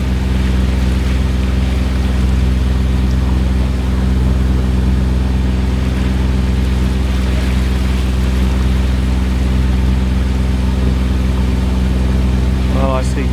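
A cruising boat's engine runs through a tide-swept lagoon entrance on the way to Fitzroy Lagoon, a loud, continuous, steady drone with water wash that holds unchanged throughout.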